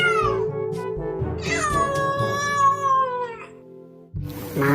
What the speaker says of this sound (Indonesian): Seekor kucing.